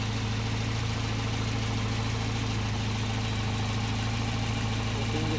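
A car engine idles at about 800 RPM with a CDI ignition unit fitted, giving a steady, even low hum and rumble that runs unbroken and close throughout.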